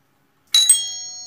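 A ding-dong doorbell chime rings once, loud and close, with a bright struck tone followed by a second note and a long ringing decay.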